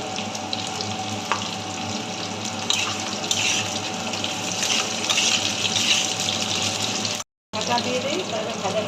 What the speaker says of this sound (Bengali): কাঁচকলা আর পেঁপে আমি একসঙ্গে ভেজে নেবো